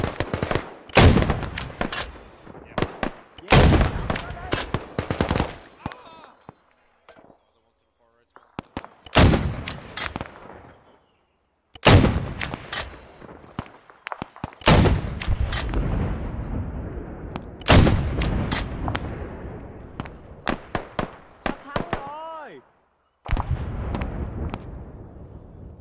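Artillery and gunfire rounds in the ARMA 3 SOG Prairie Fire game, heavy booming impacts and sharp shots arriving in irregular bursts with quiet gaps between, loud and close, with game radio chatter in between.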